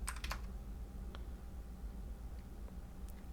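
Code being typed on a computer keyboard: a quick burst of faint keystrokes, then a few isolated taps spread over a quiet, steady room hum.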